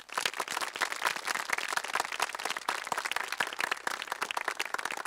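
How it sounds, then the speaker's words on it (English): A crowd applauds at a high school graduation ceremony with brisk, sustained clapping from many hands. The sound is fairly distant and continues evenly throughout, with no voices over it. "Let's give them one big round of applause."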